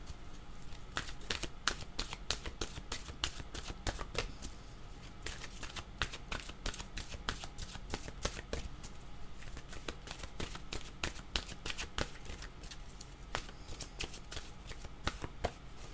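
Oracle cards are shuffled over and over in a fast, crisp riffling rhythm of papery flicks and snaps, close and steady throughout with no pauses.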